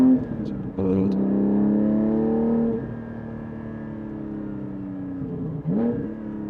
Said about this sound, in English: Yeah, exhaust is nice, got a very nice tone.